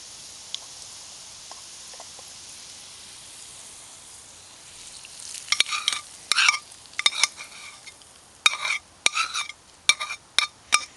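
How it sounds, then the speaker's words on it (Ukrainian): A quiet simmer, then scraping and clattering bursts with a sizzle as browned fried vegetables are tipped into a pot of borscht cooking over a wood fire, close up, no voices. "Смажка вже підрум'янилася, готова. Висипаю її до борщу."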